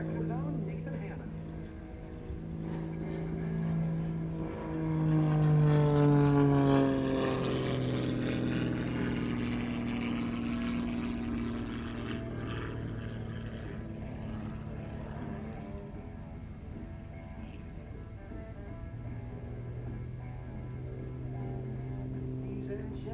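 A de Havilland Super Chipmunk aerobatic propeller plane flies overhead at an air show, its engine drone rising and sliding in pitch as it passes, loud in the middle and steadier and more distant afterward.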